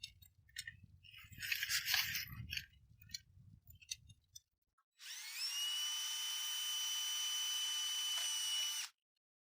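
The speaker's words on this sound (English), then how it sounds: "what we're going to do is we're just going to drill a hole" A power drill bores a hole into a 4-inch sump pump discharge line, a steady high-pitched whine lasting several seconds, preceded by close handling and rustling noises.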